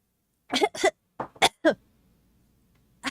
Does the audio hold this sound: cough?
yes